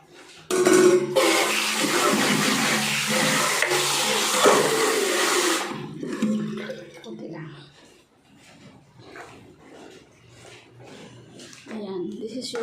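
Water is poured into a cat's bowl, a loud, steady gushing splash that lasts several seconds before stopping, after which a voice speaks over soft background sounds.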